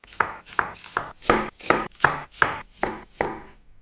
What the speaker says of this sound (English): you can also just test with some hard vegetable like carrot or radish